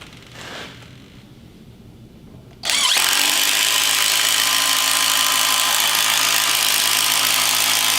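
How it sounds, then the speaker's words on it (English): A Festool compact drill drives a long lag screw into pieces of wood, starting with a sudden loud whir that holds steady and strong after a quiet lead-in. "going to run this long lag screw into these pieces of wood, just like I'm running into a ledger board on a deck"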